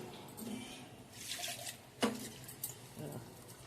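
Water splashes into a pot of Muslim-style katta sambar, a soft, uneven pour with a few brief drips and splashes at close range.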